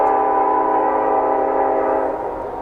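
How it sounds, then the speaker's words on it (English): A Union Pacific eastbound manifest freight train led by all-EMD locomotives on Donner Pass in winter sounds a steady, loud, chorded horn that holds for nearly three seconds before easing slightly. "The next train to roll past my camera was an eastbound manifest with an all-EMD consist."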